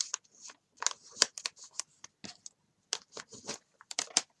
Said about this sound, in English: and then fold this edge down.